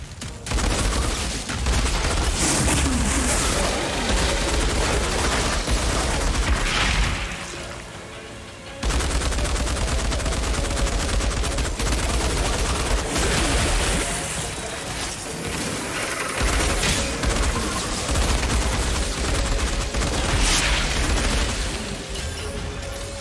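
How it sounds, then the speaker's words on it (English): A legendary light machine gun in the shooter Outriders fires long, dense, booming bursts that almost never stop, with one short break in the middle. "Yep, legendary LMG. It actually does okay against these creatures."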